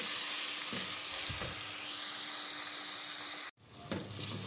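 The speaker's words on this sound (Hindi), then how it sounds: "टमाटर को फ्राई कर लेंगे, उसके बाद हम इसमें मसाले डालेंगे।" Tomatoes fry in a pan with a steady, close sizzle that runs throughout, briefly cut off near the end before resuming, with a few soft stirring knocks and no talking.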